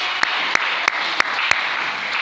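A church congregation applauding together during a service, a steady wash of dense clapping with a few sharper individual claps popping out at regular intervals.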